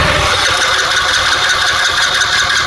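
A Hero Splendor BS6 motorcycle with a faulty starter relay has its self starter running continuously. It makes a loud, steady whirring drone that never lets up, and no voices are heard.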